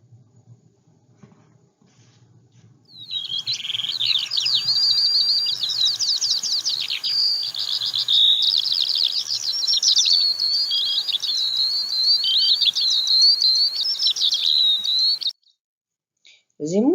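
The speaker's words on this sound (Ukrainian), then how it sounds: "Це в нас жайворонок." A skylark sings a long, continuous, rapid warbling song of high trills and chirps, close and steady, then it stops abruptly.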